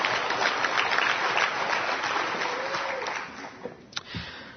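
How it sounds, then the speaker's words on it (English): Dense applause from a convention crowd fills the hall, strong at first and thinning out over a few seconds, with a few scattered claps near the end. "Yeah, applaud yourself."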